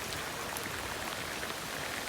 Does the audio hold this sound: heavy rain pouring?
yes